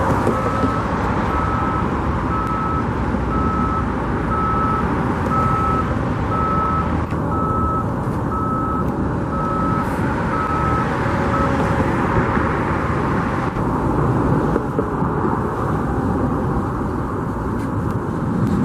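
A water truck at the Allegiant Stadium construction site in Las Vegas sounds a steady run of evenly spaced reversing beeps over a loud, constant engine and site rumble, then the beeping stops while the machinery drone continues.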